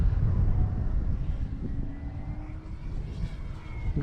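A Top RC Thunder radio-controlled model airplane flies overhead on a breezy day, its small engine giving a thin, steady drone that shifts slightly in pitch while gusty wind rumbles across the microphone.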